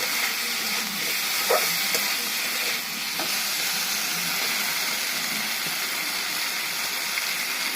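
Fish curry with mango and potato bubbling in a pan, a steady broadband simmering hiss and sizzle throughout, close and fairly loud, with a couple of faint clinks and no talking.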